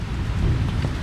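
Rain falls steadily outdoors, a continuous dense hiss with a low rumbling undertone throughout a brief moment.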